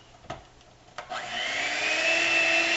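An electric mixer whirs steadily as it blends milk and baking powder for a strawberry coconut tres leches cake, with a couple of knocks before the motor starts and then a continuous, fairly loud hum.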